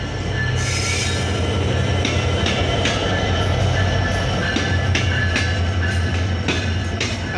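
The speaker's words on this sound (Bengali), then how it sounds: "পঞ্চগড় থেকে ছেড়ে আসা ঢাকাগামী আন্তনগর ডাউন 794 পঞ্চগড় এক্সপ্রেস ট্রেনটি 27 লোকোমোটিভ লং রুটে নিয়ে পার্বতীপুর জংশন ইন করলো" The Panchagarh Express, a Dhaka-bound intercity train, rolls into Parbatipur Junction with a steady loud rumble, wheel clatter and sharp squeals from the rails, close and continuous.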